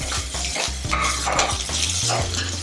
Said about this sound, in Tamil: இப்போ தக்காளியோடு சேர்த்து நல்லா வதங்கணும்